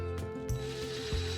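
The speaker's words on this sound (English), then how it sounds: "All right, so I'm gonna screw these into place" A power driver sinks 1 5/8 inch deck screws into wood in a short, faint burst: a steady motor whine with two brief low dips in pitch.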